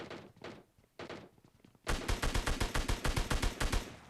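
PUBG Mobile Lite gunfire: a few separate shots, then a rapid burst of automatic fire, loud and close.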